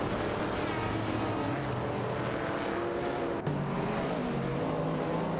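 Racing car engines in a video game, including a Shelby Cobra and a Porsche 906, roar continuously with shifting pitch as several cars run close together, loud and steady with one brief dip.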